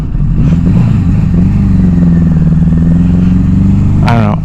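A 1982 Suzuki GS750T motorcycle engine runs steadily and loud up close, a low droning hum with a brief rev near the end, while a person talks briefly over it.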